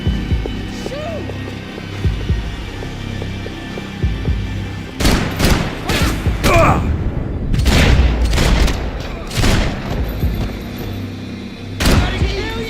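Scattered heavy gunshots and booms in the shooter game Max Payne 3, several loud bursts spread across the stretch over a low ambient hum, with faint background voices.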